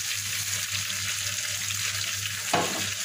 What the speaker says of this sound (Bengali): এবার পানি দিয়ে দিলাম,